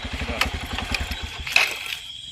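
Motorcycle engine running during a ride on a rural road, a steady low throbbing pulse with some wind and rattling noise, fairly close and moderate in level.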